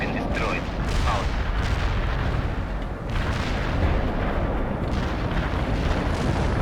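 Artillery barrage in the war game World in Conflict, a dense, continuous roar of heavy booms and rumbling blasts that runs the whole stretch with no clear gaps.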